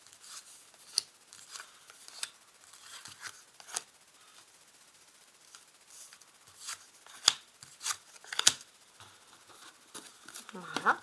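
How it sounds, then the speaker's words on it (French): Soft papery slides and light taps as tarot cards are placed one by one on a table, faint and close, with short gaps between placements and no talk. "on va placer donc les cartes entre vous et votre autre"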